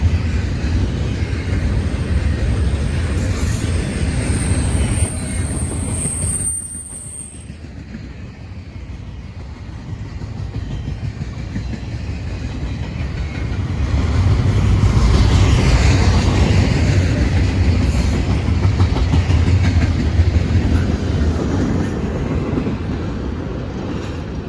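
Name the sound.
CSX I-169 freight train passing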